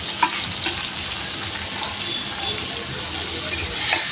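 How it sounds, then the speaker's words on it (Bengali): Dried fish fries with spices in oil in a pan, giving a dense, continuous sizzle with a few faint clicks of stirring and no voices. "মশলার সাথে শুটকিটা ভালো করে কষানো হয়ে গেছে, তেলটা আলাদা হয়ে গেছে দেখুন।"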